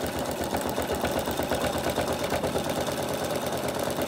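A sewing machine runs steadily through free-machine embroidery on a campervan appliqué, its fast, even mechanical whirr and stitching rhythm continuing close and unbroken with no talk.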